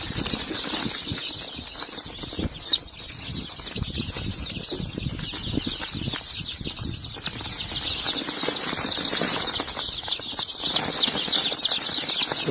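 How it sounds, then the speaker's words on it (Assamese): A flock of about 150 chicks being readied for delivery, with a busy, continuous mix of chirps, clucks and wing flapping filling the scene at close range, fairly steady throughout. "150 পোৱালি আছে।"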